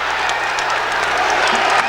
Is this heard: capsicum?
no